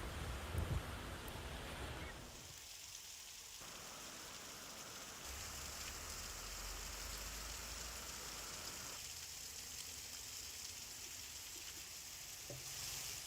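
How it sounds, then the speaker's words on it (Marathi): Heavy rain pouring down in Kannad taluka, Maharashtra, a steady dense hiss of falling water that holds evenly throughout with no voices. "गंगापूर, सिल्लोड, सोयगाव या परिसरात पाऊस पडतोय।"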